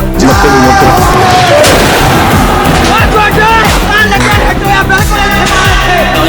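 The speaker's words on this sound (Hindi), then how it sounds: "अभी धमाका हो गया" Loud, chaotic outdoor din of heavy booms and bangs at an airport, with repeated blasts and rumbling over agitated voices and crowd noise.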